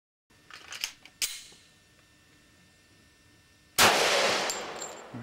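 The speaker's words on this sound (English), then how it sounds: "Okay, so here's the second shot." A gun fired from the hip at a bottle cracks out loud and sharp, with a fainter sharp pop before it and a dense burst of noise near the end as the bottle blows apart.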